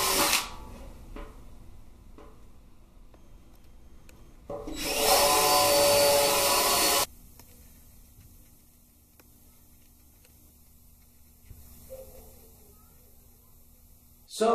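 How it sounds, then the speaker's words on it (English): Power drill whirring into the sheet metal of a 1967 Camaro wheel tub during removal, one loud sustained burst of a couple of seconds amid quieter shop noise and light handling sounds. "We'll just step it up to the drill where we can't get the hole punch."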